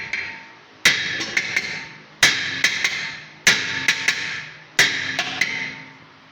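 A hammer strikes a car brake rotor four times in evenly spaced heavy blows, each followed by quick smaller bounces and a ringing clang, loud and close.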